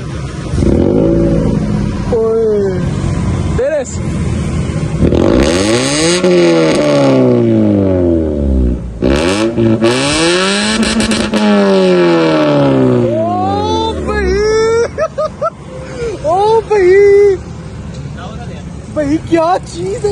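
A Honda S660 with a newly fitted exhaust revs hard and close: loud, repeated rising and falling engine sweeps with throttle blips near the end, and excited voices over it.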